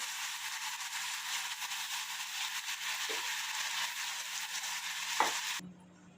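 Leftover batter frying in oil for a fasting-day coconut and peanut chutney, a loud, steady crackling sizzle with a clink of a utensil near the end before it suddenly cuts to quiet.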